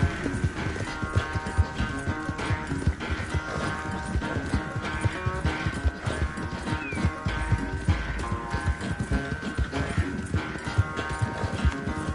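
Galloping horse in the game Red Dead Redemption II, loud rapid hoofbeats pounding in continuous rhythm during a race, with an occasional neigh and background score.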